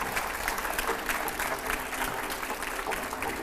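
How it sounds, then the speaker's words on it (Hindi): Audience applause at a Hindi television interview event, a sustained round of brisk, dense clapping from a sizeable crowd, even in loudness throughout. "पहले तो जोरदार तालियां हो जाए इसके लिए एक बार।"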